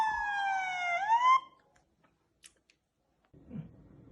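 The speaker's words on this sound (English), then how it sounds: "the actual siren is gonna keep turning on and off" A siren tone sweeps briefly and cuts off abruptly, followed by near silence with a few faint ticks and a low murmur.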